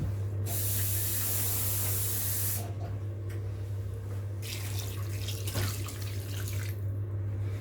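A kitchen tap runs into a pot of pearl barley with a loud, steady hiss and spray. The water bursts out strongly at first, then eases into a fuller running and filling sound with small changes, and no one talks.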